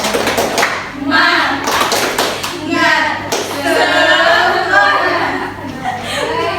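A group of students claps for group 2 during a classroom teaching session, with steady applause lasting several seconds under chatter and a few chuckles.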